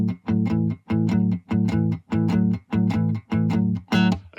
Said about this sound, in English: So you could start with more of a simple open shuffle type pattern